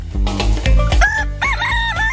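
A rooster crows loudly and close by, a single long rising-and-falling cock-a-doodle-doo call standing alone with no talk.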